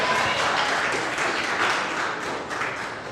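Spectators applaud as a second-seeded junior player from Adelaide walks onto court at the Oceania Junior Championships, a continuous, moderately loud patter of many hands that fades slightly toward the end.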